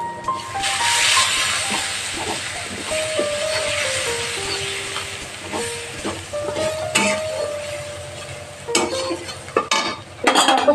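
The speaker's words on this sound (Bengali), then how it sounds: "তো এটা এখন সব মশলাগুলো মিক্স করে নিচ্ছি।" Spices with half a spoon of dried red chillies are stirred in a hot pan for a fish curry, a steady hiss of frying under repeated scrapes and clinks of a spoon against the metal, close and fairly loud.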